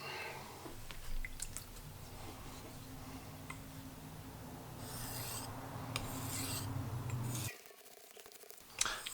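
A knife blade being sharpened on a whetstone set on a small stand with a rubber mat: a soft, continuous rasping and rubbing of steel on stone, faint and close, with a few small ticks and a brief pause near the end.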